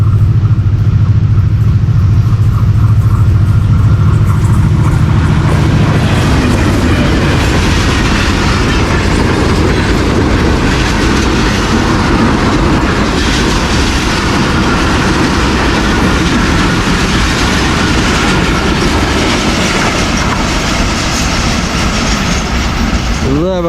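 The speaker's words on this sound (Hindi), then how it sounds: "ज़बरदस्त शानदार ट्रैक साउंड्स के साथ ये थी पासिंग 28 डाउन शालीमार एक्सप्रेस" Shalimar Express passenger train passing close by on the tracks, a loud sustained roar with rhythmic clickety-clack of wheels over rail joints, steady throughout with faint voices beneath.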